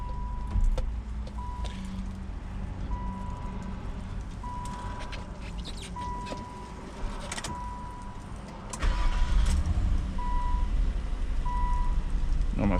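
A 2001 Nissan Maxima with a 3.0L VQ30DE engine idles steadily after a long crank following sitting, a low continuous hum with a repeating chime tone and a few clicks and knocks nearby.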